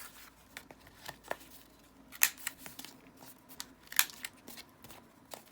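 Scissors rounding the corners of paper for a collage with vellum pieces: a series of short, crisp snips scattered irregularly, close and fairly quiet, with two sharper cuts standing out.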